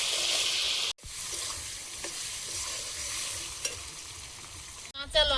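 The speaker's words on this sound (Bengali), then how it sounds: "লবণ, লবণ হলুদ দিয়ে আলুটা আগে ভালোভাবে ভেজে নেব।" Potatoes frying with salt and turmeric in hot oil, a loud steady sizzle and stirring that runs throughout, broken by a brief pause and a scrape near the end, with no talking.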